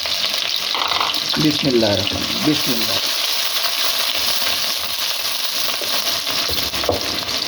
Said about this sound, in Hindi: प्याज को डालकर आपने लाइटली फ्राई करना है